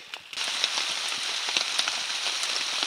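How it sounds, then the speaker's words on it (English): Heavy rain pours steadily outside a log cabin, a dense hiss of drops pattering close by on a surface, with no voices. "It's raining pretty hard right now."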